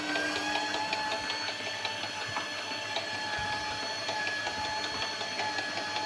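Mixer slowly blending cocoa into a mixture: a steady mechanical whir with a fast repetitive rattling rhythm and occasional knocks, constant and close, with no talking.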